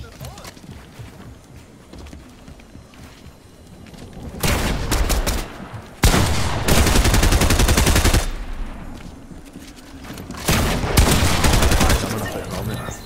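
Rapid bursts of Fortnite gunfire crackle loud and near in several long volleys, separated by quieter stretches, with a voice talking between shots.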